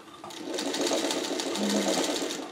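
A sewing machine stitches a quilt's inset circle, its needle running in a fast, even chatter up close with a brief hum in the middle, heard alone without talking.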